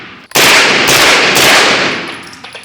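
Very loud burst of 9mm carbine fire, from a KUNA, MP5 or Daniel Defense PCC, at a shooting range, a dense rapid string of close shots that rings out and decays.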